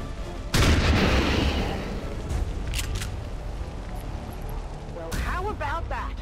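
A soldier fires in the XCOM 2 video game, a sharp loud blast with a booming rumble that decays over a couple of seconds, followed by quieter game sounds and a brief burst near the end.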